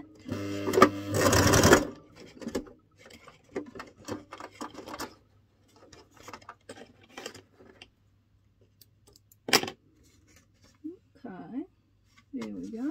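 Sewing machine stitching straight and zigzag lines onto a craft journal page, a short loud burst of rapid needle clatter, then scattered quieter mechanical ticks with pauses, while someone talks throughout.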